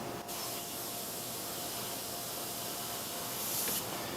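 A steady airbrush hiss sprays paint onto glass letters continuously, close and even, with a brief break near the start and a slightly brighter burst toward the end.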